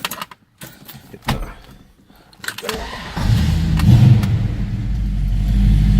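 A 1969 Ford Mustang Shelby Cobra GT500 V8 cranks over after a few clicks and taps, then fires and settles into a loud, deep, steady idle that runs close by to the end.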